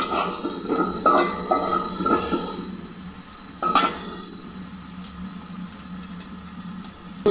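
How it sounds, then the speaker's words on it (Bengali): Dried puti fish frying in a pan with a soft sizzle, punctuated by several scraping stirs early on and a sharp clatter near the middle, then a quieter steady hiss. "শুটকি ভাজা হয়ে গেছে"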